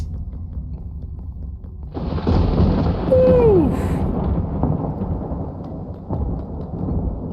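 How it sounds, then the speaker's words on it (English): Thunder rolling in a Minecraft game world, a deep rumble swelling midway and fading out under rain, with a voice exclaiming briefly and background music. "It's thundering."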